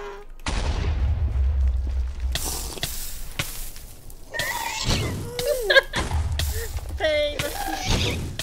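Minecraft Ghast fireballs burst as sharp booms and whooshes in a game, several blasts mixed with squealing in-game sounds and voices talking over them.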